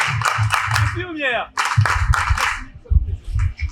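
Applause for nurses at a ceremony, bursts of clapping mixed with a lively speaking voice over them.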